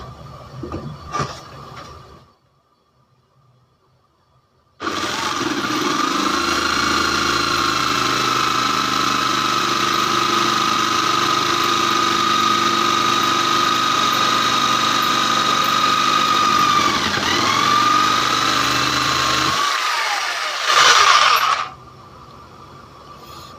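An NRT Pro JS65HD jigsaw in pendulum mode, at speed setting 4, cuts through hard wood with a loud, steady motor whine and blade buzz lasting about sixteen seconds, then winds down, with a few handling knocks before and after.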